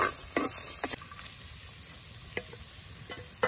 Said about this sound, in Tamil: வெங்காயம் நல்லா பொன்னிறமாக வறுத்து எடுக்கணும்